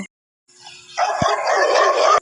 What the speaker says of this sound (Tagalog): sa bisa ng tuhol ng kanyang aso